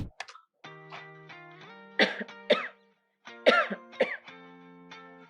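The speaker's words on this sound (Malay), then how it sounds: "Itulah, batuk ni makin teruk." A person with a worsening cough coughs and clears their throat in several short, rough bursts, close and fairly quiet, set against a sustained tonal music bed.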